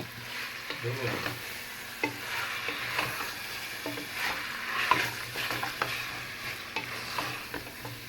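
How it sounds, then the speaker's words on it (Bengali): Beef fries in a pot for a spicy bhuna dish while a spoon stirs it, producing a soft sizzle with irregular scraping strokes, fairly quiet and close, with no speech. "সব কিছু দিয়ে এটাকে একটু ভালো মতো কষাবো"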